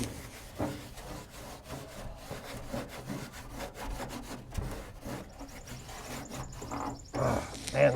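Acetone is rubbed onto a small, leaky aluminum boat, heard as quiet, rhythmic back-and-forth scrubbing strokes with a few louder scuffs near the end.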